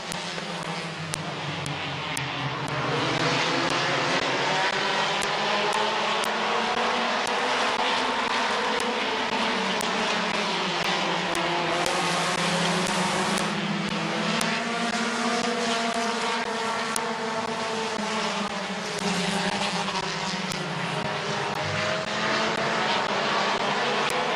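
A pack of race cars roars off at the start of the B feature at Midvale Speedway, engines droning loud and continuous with rising and falling pitch as they pass, with no talk.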